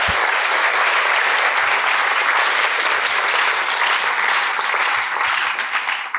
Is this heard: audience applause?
yes